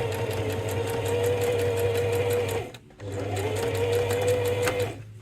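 A sewing machine hums and rattles through a thick gusset seam on a fabric plant pot holder, two close steady runs of motor drone split by a brief pause.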